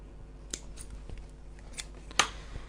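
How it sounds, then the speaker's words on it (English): Scissors give a few sharp, quiet snips at the centre of a fabric piece's long edge while making a medication bag organizer, with a louder single cut near the end. "Find the centre and just give it a snip."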